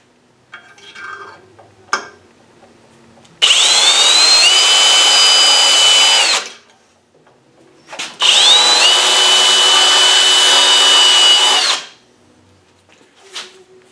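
Two long bursts of a power drill whining steadily at high speed, close up, drilling a 5/32-inch tap-size hole on a milling machine, separated by a short pause with faint clicks and handling noise.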